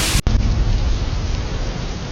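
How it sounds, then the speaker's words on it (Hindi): A storybook sound effect of a thunderstorm with heavy rain and strong wind over a farmer's home: a dense, loud, rushing wash with a low rumble, broken by a brief abrupt cut near the start, then steady. "और बादल भी गरजने लगते हैं।"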